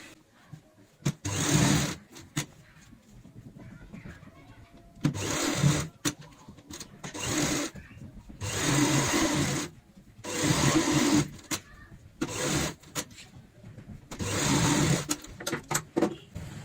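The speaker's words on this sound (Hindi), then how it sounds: "और यहाँ पे अब हम सिलाई की शुरुआत करेंगे।" A sewing machine stitches a zip onto a fabric cushion cover, running in short close bursts of rapid chattering separated by brief pauses.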